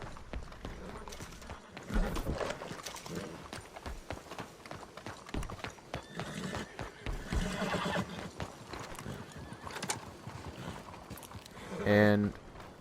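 In the video game Red Dead Redemption 2, a horse's hooves clop in uneven bursts while a player talks over them, and a loud, close neigh comes near the end.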